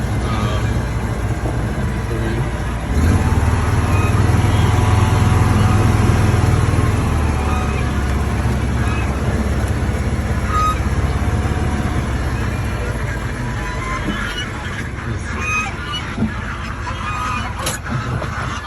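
A Gator utility vehicle engine runs steadily throughout with a low rumble, briefly getting louder, while rustling and movement noises sit on top, on a farm.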